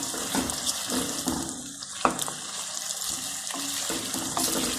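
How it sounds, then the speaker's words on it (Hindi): Chicken fries in ghee with a steady sizzle and hiss that crackles and pops throughout, fairly quiet and with no voices. "ये देखें माशाल्लाह घी में अच्छी तरह चिकन फ्राई हो रहा है।"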